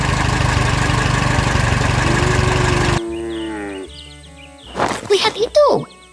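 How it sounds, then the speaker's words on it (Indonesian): A blue farm tractor pulling a trailer full of crops gives a steady engine rumble for about three seconds before it stops abruptly. Several loud cattle moos follow. "Traktor biru sedang menarik trailer yang penuh dengan tanaman."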